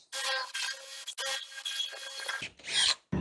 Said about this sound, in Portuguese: vou dar uma empurradinha para a ponta da broca entrar